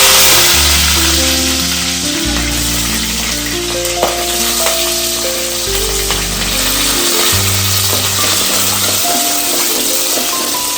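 Onions fry in oil after mustard seeds for a stingray fish curry, a dense, loud, continuous sizzle close to the pan, with steady low tonal notes running underneath.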